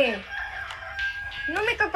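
A rooster crows briefly at close range, a short rising call that drops away, then a second burst near the end of the moment.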